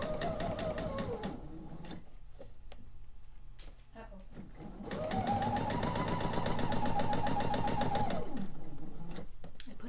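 A sewing machine runs in steady bursts while stitching quilt pieces along a line, with a fast even needle chatter that pauses briefly and starts again. Someone talks over it.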